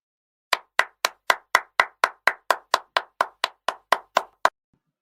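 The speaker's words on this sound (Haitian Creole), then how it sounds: "Applaudissez encore," Hand clapping at a neighbourhood party: about seventeen sharp, evenly spaced claps in a steady rhythm, close and clear, with no talk.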